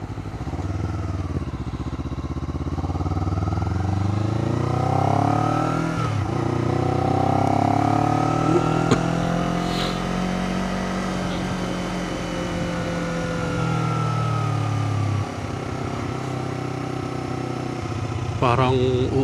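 A Honda CBR250RR motorcycle engine idles and revs up in smooth rising and falling sweeps, loud and close, with a steady high-pitched whine and occasional voices nearby.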